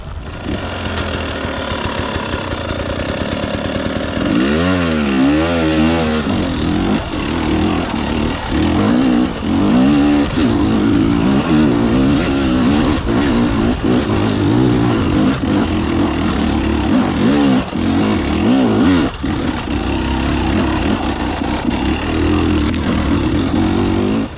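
Husqvarna 300 TEi two-stroke motorcycle engine with a remapped ECU, revving loudly and close, with repeated rising and falling throttle sweeps over a steady engine drone.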